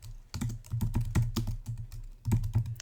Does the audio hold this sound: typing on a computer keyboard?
yes